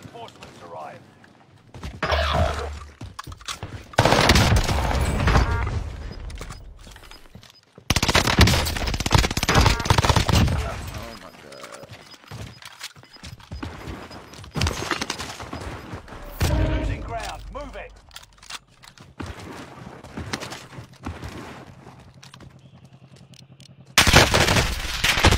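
Video game gunfire in bursts of rapid automatic shots, fairly loud and repeated across the stretch, with a person talking over parts of it.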